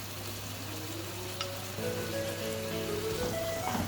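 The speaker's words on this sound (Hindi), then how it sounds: "इसको मज़ीद भून लेंगे।" Steady, soft sizzle of chicken handi frying with turmeric, garam masala and coriander powder, close and continuous with light spattering and no talking.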